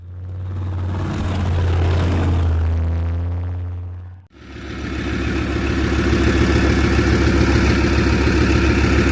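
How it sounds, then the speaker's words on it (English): A Leopard 1 tank engine on an outdoor test stand runs loud and steady, droning and rumbling, briefly dropping off before roaring back at a higher, rougher pitch. "And that's how you test an engine outside of a Leopard."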